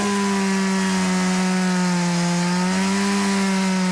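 A Stihl MS-170 chainsaw cutting wood holds a loud, steady, buzzing engine drone at close range, with only slight shifts in pitch and no pauses.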